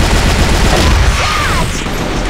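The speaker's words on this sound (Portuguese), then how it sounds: "Flash bang. Granada." A flashbang grenade goes off in a first-person shooter, giving a loud, dense burst of noise that fills the whole clip and then holds as a sustained roar with a faint high ringing.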